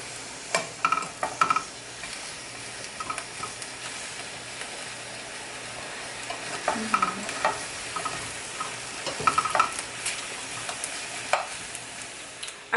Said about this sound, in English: Start churning them, have them get cooked all evenly